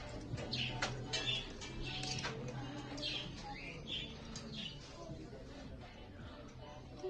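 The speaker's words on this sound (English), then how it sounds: "There's even like more birds over there." Pet-store birds such as finches and parakeets give faint, scattered chirps and tweets against a low indoor hum, with soft voices now and then.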